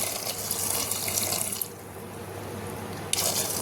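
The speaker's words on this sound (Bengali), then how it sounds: "এখানে গরম জল দিয়ে দেবো" Hot water pours into a pressure cooker holding rajma with salt and turmeric, a continuous close splashing stream that shifts in tone twice as the flow changes.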